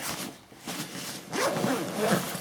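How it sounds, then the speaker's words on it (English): A zipper on the front pocket of a Nikon camera bag is pulled open in a couple of quick, scratchy strokes, close and fairly quiet, with no talking. "Zip at the front of the bag."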